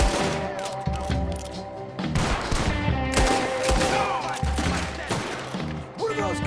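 Dense bursts of rapid gunfire and booming shots fill a firefight in Red Dead Redemption 2, loud and sustained, with shouted voices mixed into the chaos.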